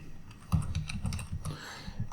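Quick, close keystrokes on a computer keyboard as a name is typed into a web interface, a burst of irregular clicks and taps with no talking.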